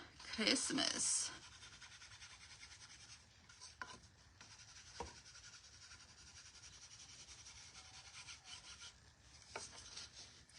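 Soft, faint rubbing of a distress ink pad along the edges of a wooden cutting board, a louder scuffing burst at the start, then quiet strokes with occasional light taps.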